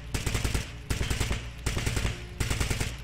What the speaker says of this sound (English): Got some covering fire.